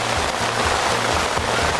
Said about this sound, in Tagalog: Malakas yung ulan po. Sobra.